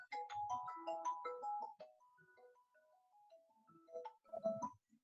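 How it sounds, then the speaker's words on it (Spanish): A mobile phone ringtone plays a bright electronic melody of quick repeated notes, then a slower descending line and a final burst, fairly faint and alone during a meeting. "no sabía que tenía el celular con sonido"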